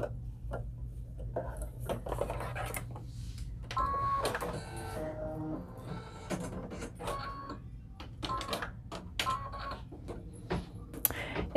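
An embroidery machine stitching small green leaves beside flowers on a hooded towel, giving off rapid mechanical chattering and whirring with bursts of needle clatter, close and steady, with faint voices now and then.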